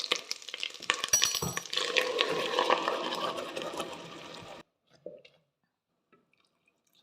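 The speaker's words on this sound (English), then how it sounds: "So that's 300 millilitres of warm water to adjust the consistency of the gravy" Warm water poured into butter chicken gravy in a hotel kitchen, a busy sloshing, bubbling pour lasting several seconds before cutting off abruptly, followed by a few faint drips and near silence.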